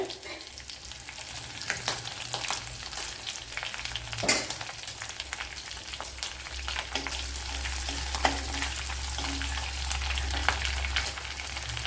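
Fennel seeds and green chillies fry in hot oil with a constant crackling sizzle over a low steady hum, with a few clatters of a stirring spoon, one especially sharp.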